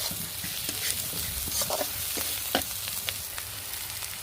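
Prawns frying in a pan of hot oil give off a steady sizzle with light crackles and a few sharp pops, close and continuous with no voices.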